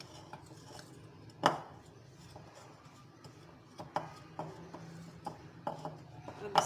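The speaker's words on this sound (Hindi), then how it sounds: "चार चम्मच मैदा लिया मैंने। इसको इस तरह मिक्स करेंगे हम लोग।" Four spoons of maida flour are mixed in a bowl for gulab jamun, quiet scraping and rubbing with several sharp spoon-on-bowl clinks, close and faint, with no talking.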